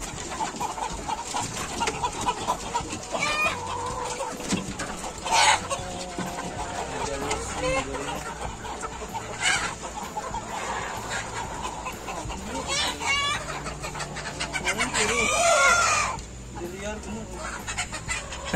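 A flock of hungry free-range chickens on an Indonesian poultry farm clucks busily and continuously, close by, with scattered squawks and a faint crow amid muffled background voices.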